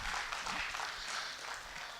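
A crowd at a corporate event applauds as Mr. Sabir Zaidi, Director of Jaffa Group, takes the floor, a steady wash of many hands clapping at moderate distance throughout, faint and without speech.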